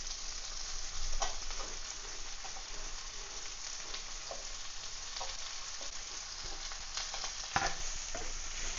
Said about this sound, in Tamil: இதில் போட்டிருக்கிற இந்த வெஜிடபிள்ஸ் எல்லாம் நல்லா வதங்குற வரைக்கும் வதக்கணும்.